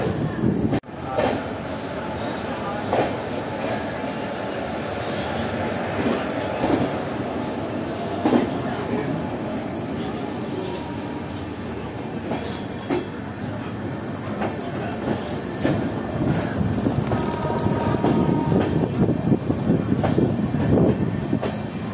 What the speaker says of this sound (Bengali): ধীরে ধীরে আমাদের ট্রেন এখন বেরিয়ে যাচ্ছে রামপুর জংশন রেলওয়ে স্টেশন